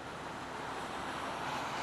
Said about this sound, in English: Here's the waterfall down here, and it goes on up through the snow.